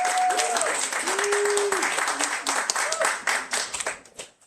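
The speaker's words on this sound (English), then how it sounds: "Let's go one more round of applause for William" Audience applause fills a book launch reading in Los Angeles, dense steady clapping from a crowd that carries on with a few scattered whoops and slowly thins out toward the end.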